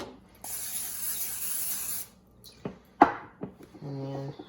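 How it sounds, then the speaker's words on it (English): A short burst of aerosol cooking spray hisses into a bread pan close up for about a second and a half, followed by light clinks and handling noises. "I'm just gonna put some cooking spray in it."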